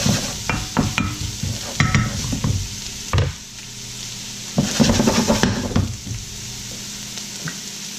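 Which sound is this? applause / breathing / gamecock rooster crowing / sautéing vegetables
sautéing vegetables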